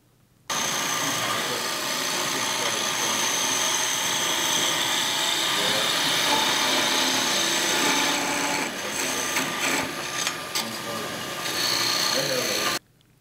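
A wood lathe spins a tool handle blank for a box scraper while a skew chisel cuts it, giving a continuous close whirring hiss with rough scraping, brief interruptions near the end, and some talking over it.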